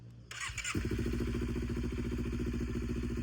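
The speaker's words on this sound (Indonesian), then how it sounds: "tes sound gitu cuy, tes suara, tes knalpot nih. Ya, nyalain." A Honda CBR250RR motorcycle fires up after a brief starter crank and settles into a loud, steady, throbbing idle with a deep rumbling exhaust.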